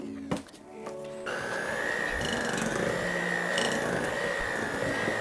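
An electric mixer whirs steadily, blending vanilla into vegan chocolate buttercream. A few clunks come first, then the motor starts and runs at an even, close, fairly loud pitch with no talk.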